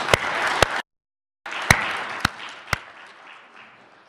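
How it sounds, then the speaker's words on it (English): An audience at a steel industry awards ceremony claps for associates, a broad wash of applause broken by a brief silent gap and a few sharp thumps, then gradually tapering off. "Let's have a round of applause for the associates."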